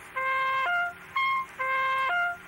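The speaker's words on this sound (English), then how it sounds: "An oboe is a wind instrument that makes sounds like this." An oboe plays a short repeating two-note phrase, three times, with a faint background hiss and no talking.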